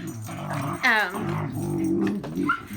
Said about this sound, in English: The dogs want to play fight every time I try to make it.